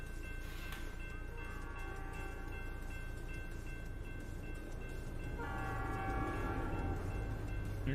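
A freight train rumbles past in a trucking simulator game, a steady low rolling roar with a sustained horn tone, growing louder in the second half, with no voices.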